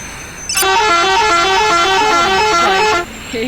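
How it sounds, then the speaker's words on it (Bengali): A bus horn sounds one long, loud, close blast of about two and a half seconds with a musical, wavering multi-tone pattern, like an old Bangladeshi vehicle horn, followed by a brief second toot. "কি ভাই এ কি হর্ন দিছে ভাই"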